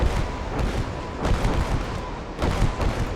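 Continuous artillery fire in the WWII Eastern Front strategy game Gates of Hell: Ostfront, a dense rumbling barrage of booms and blasts with louder impacts around the middle and near the end, no voices.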